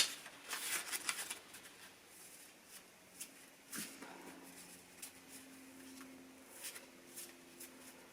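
Playing cards being shuffled by hand at a table, with quiet riffling bursts early on and then softer intermittent shuffles and taps, close and faint.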